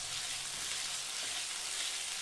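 Chopped onions with crushed garlic and chilies fry in oil for biryani fried onions, giving a steady, close, dense sizzle with no break and no voices.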